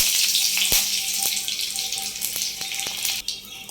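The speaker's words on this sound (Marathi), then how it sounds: "तुम्ही बघू शकता की किती छान असा आवाज त्याचा तळतळण्याचा पण येत आहे" Curry leaves crackle and sputter in hot oil in a pan during tempering for dadpe pohe, a steady close hiss dotted with sharp pops, no voices.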